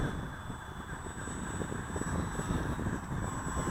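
A Max Thrust Riot radio-controlled model airplane flies at full throttle in a light breeze, giving a steady, fairly loud propeller drone with a thin high whine throughout.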